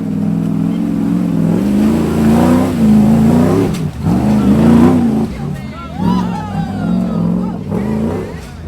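An off-road truck revs hard and drifts through a corner, with engine howl rising and dropping in pitch and a brief tire squeal, loud and close while people talk over it.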